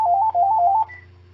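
A mobile phone gives off a short melodic electronic ringtone, a repeating pattern of bright tones, during a council scrutiny committee meeting, then a faint single tone as it is silenced; no talking.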